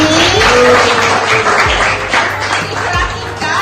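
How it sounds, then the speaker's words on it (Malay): Classmates clap for a student named Aini in a school classroom, a dense burst of hand claps over room noise with some voices mixed in, fading slightly toward the end. "bagi tepukan dekat Aini ni"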